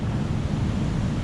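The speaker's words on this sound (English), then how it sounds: "Whoa, it is windy" Strong wind buffets the microphone in a steady low rumble with no voices, a brief continuous outdoor roar on a garden allotment in early March.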